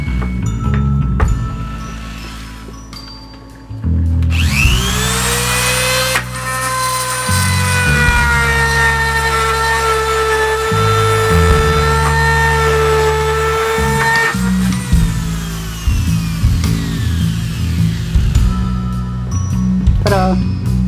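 A section of PVC for a laminated compound bow is carved with a power tool that whines steadily at high pitch for about ten seconds, loud and close, amid louder background music and brief tool starts.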